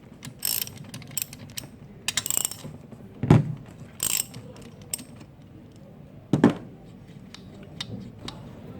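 A ratchet wrench loosens crankshaft main bearing cap bolts on an engine, giving bursts of close, crisp ratcheting clicks between two heavier clunks as each bolt breaks free, with no talking.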